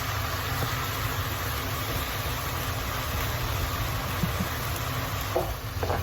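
Rice and tomato sauce being stirred into meat in a pan for stuffed peppers, a steady low sizzle and scraping churn that runs unbroken, with a faint high whine above and occasional clinks near the end.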